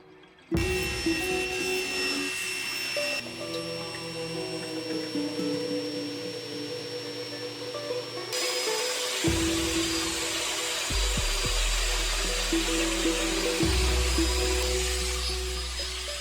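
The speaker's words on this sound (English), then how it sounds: "I'm going to use this sled to cut it on the table saw" A table saw running with a sled to cut a wooden circle, a steady motor whine with a droning blade pitch that shifts and drops as the wood is fed through, loud and close, no voices.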